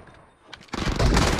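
Gunfire in the mobile battle royale game PUBG Mobile during a team deathmatch, a quiet lead-in followed by a loud, dense burst of automatic shots up close.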